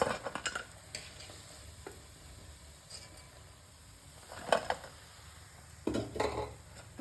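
Soya chunks fry in hot oil with a steady low sizzle, broken by several sharp stirring and utensil clatters against the pan near the start, middle and end; no one talks.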